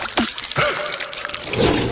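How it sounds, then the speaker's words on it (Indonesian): Strawberry syrup is poured onto a cake in a kitchen, a close, steady liquid pour with dripping and trickling through the whole stretch, loud and continuous with no talk. "sekarang saatnya kita menambahkan sirup stroberi ke dalam kuenya. Biarkan dia mengalir turun seperti air terjun."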